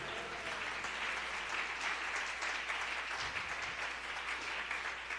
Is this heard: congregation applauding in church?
yes